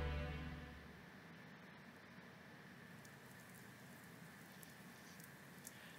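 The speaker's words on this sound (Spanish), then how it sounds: "la lluvia cayendo" Rain falls in a Fate/Stay Night visual novel scene on a mountain near a temple, a soft, even hiss of drops that runs on steadily and faintly after a low sound fades out at the start.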